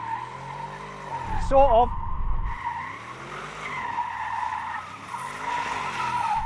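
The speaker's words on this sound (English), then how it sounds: "I've turned the stability control all the way off. I'm going to see if it'll do some skids." An Audi RS Q8 SUV skids on a loose, dusty surface with stability control switched off, tires squealing and scrabbling while the engine roars and surges, with someone speaking briefly over the noise.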